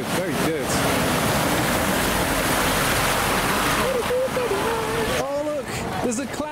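Range Rover splashing through the ford at Rufford, with a loud, continuous rush of churned water. Voices talk over the splashing near the end.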